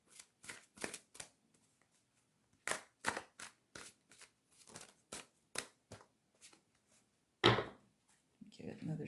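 Playing cards are riffled and snapped in quick bursts with pauses between, close and crisp, followed by a louder shuffle and a voice at the end.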